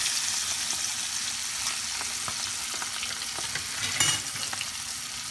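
Mackerel frying in a pan, a steady loud sizzle and crackle with scattered pops and one brief louder clatter partway through.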